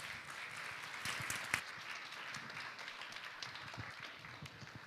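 An audience at a developer conference's lightning-talk session applauds the next speaker, a soft, steady wash of clapping heard from a distance with a few sharper claps standing out.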